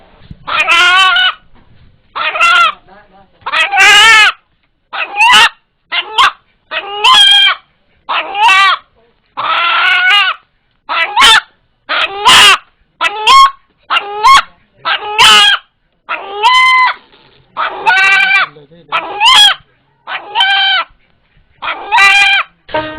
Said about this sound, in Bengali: ভয় পেলে মোরগটি যেভাবে ডেকে ওঠে